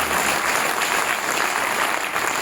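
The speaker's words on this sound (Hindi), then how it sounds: "अरे जोर से ताली बजाओ" A large audience at a government job fair in Jammu claps loudly and steadily, a dense unbroken wash of applause filling the whole moment.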